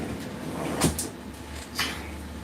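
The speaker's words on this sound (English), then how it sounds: "I will close that door." A door thuds shut nearby, followed by a second softer knock about a second later, over low background hum.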